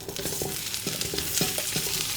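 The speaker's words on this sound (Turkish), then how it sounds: "Bu arada ve bizim soğanımızı atıyoruz." Chopped onions sizzle steadily in about three spoonfuls of hot oil in a cooking pot, a continuous loud frying hiss with faint stirring clicks and no talking.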